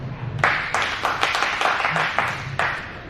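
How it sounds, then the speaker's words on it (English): An audience at a book launch in Durban claps hands, a run of sharp, moderately loud claps in an uneven rhythm lasting a few seconds, with a faint voice underneath. "Anyone from Johannesburg here, clap your hands?"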